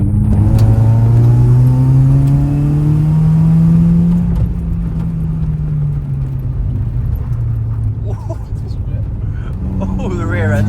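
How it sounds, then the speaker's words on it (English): A Mazda MX-5 engine drones loudly during a trackside noise test, its pitch sweeping up and down as the car accelerates and lifts, with voices talking over the steady engine sound. "That fucking MX-5 is well loud."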